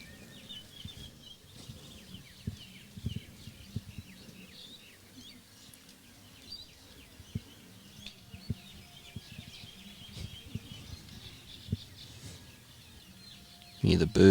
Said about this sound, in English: Hear the birds in the background chirping